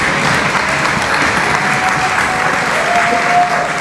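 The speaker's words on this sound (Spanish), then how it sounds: "démosle un fuerte aplauso al doctor Miguel Antonio Bernal por su participación" An audience applauds a guest speaker, Dr. Miguel Antonio Bernal, at a constitutional literacy talk for teachers at the Instituto Nacional; dense, steady clapping runs loud and continuous throughout with a faint murmur of voices.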